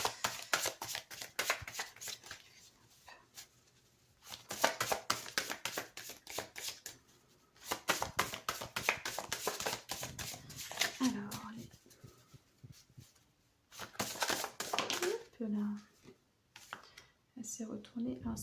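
Oracle cards shuffled by hand in repeated bursts of riffling and sliding, close and crisp, with pauses between rounds and someone talking quietly between and over them.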